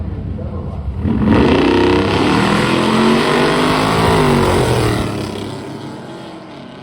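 A drag racing truck makes a full pass at a drag-and-drive event, a loud sustained engine roar building sharply after a second and holding strong before fading off near the end.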